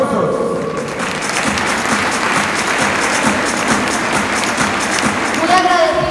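Loud, sustained applause from a crowd at a sponsor and partner presentation event, dense clapping running steadily throughout, with voices and cheering mixed in and swelling slightly near the end.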